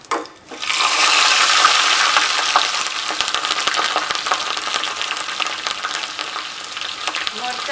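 Mustard seeds, cumin, asafoetida and chillies crackle and sizzle loudly in hot oil, a steady dense hiss with scattered pops after a short quiet start, no talking.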